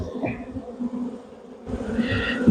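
Old honeybees buzzing close by at a hive, a droning hum that rises and swells toward the end, with no talking.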